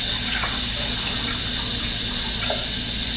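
Steady water runs through the cavity of a partly frozen turkey being thawed, a continuous faucet-like gush and trickle, close and fairly loud with no talking.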